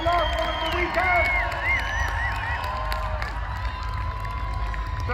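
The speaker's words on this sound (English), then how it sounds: "People of Bristol, cheer, they can hear you." A large outdoor crowd at the Bristol Balloon Fiesta cheers steadily for parachute jumpers making the last jump of the weekend, a broad distant roar with whistles and shouts rising over it.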